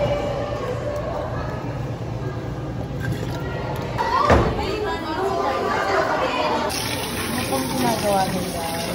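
Tap water runs steadily in a busy college lab setting, a continuous wash of flowing water under lively chatter and overlapping voices.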